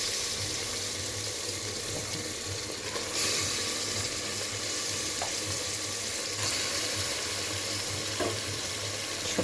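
Mutton pieces frying in a pan with already-fried onions, giving a steady, moderately loud sizzle with faint stirring scrapes throughout, no one talking.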